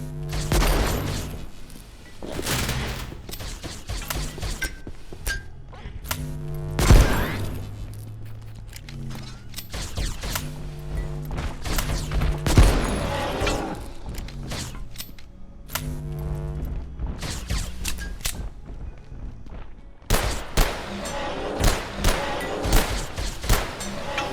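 Enemy ranged-weapon blasts in the game Abiotic Factor, a string of sharp booming shots at irregular intervals amid game sounds and footsteps, with no one talking.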